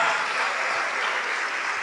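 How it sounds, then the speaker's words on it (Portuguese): A church congregation claps together, dense steady applause filling the whole short stretch at a moderate level with no voices on top. "Vamos aplaudir ao nome de Jesus."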